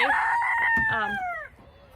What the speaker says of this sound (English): we're just feeding the chickens some treats